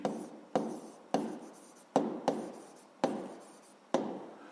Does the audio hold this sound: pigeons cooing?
no